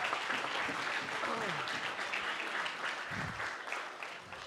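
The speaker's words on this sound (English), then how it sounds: "Can we get another round of applause for Anuhea Strickland?" Audience applause at a symposium, steady clapping filling the room from start to finish and easing slightly at the end, with a voice speaking briefly over it.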